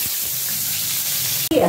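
Bitter gourd fries in hot oil in a pan, giving a steady soft sizzle and hiss that ends in a sudden clatter.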